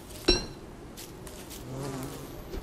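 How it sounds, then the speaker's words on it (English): Bees buzz in the video game Don't Starve, a soft, wavering drone behind a sharp click near the start. "See, there's bees now."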